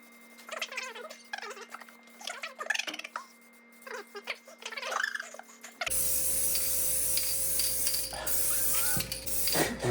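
Aerosol spray paint hisses steadily onto a car brake spindle during a disc brake conversion on a barn-find 1948 Dodge Deluxe, a continuous loud spray that begins partway through after a stretch of talking.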